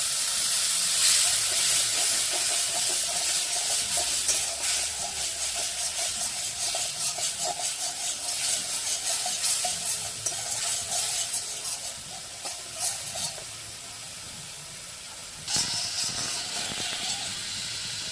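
A spice masala of Kashmiri chili powder mixed with water fries in a pan for a cauliflower roast, giving a steady hissing sizzle with occasional scrapes and stirring, fairly close and continuous.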